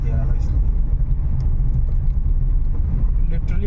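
Car driving slowly on a forest road in Pilibhit Tiger Reserve, windows open, giving a steady low engine and tyre rumble close by that stays even and continuous throughout.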